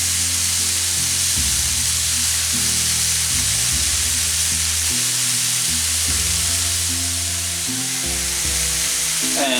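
Snap peas, mushrooms and sliced courgette sizzle steadily in a hot pan, a close, continuous frying hiss broken by stirring scrapes and shifting bubbling, with no talking.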